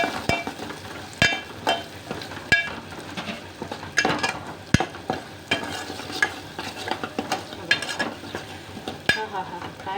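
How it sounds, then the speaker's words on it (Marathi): Masala for stuffed brinjal roasts in a pan with a low sizzle, broken by frequent sharp scrapes and clinks of a spoon stirring against the metal. "हा थोडा 1-2 मिनिटाचा भाजून घ्यायचा."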